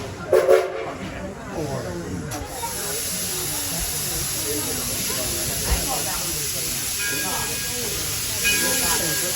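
A steam-hissing Edison ride-on train idles and begins departing a station, giving a continuous loud hiss and rumble with faint clanks, while people talk over it.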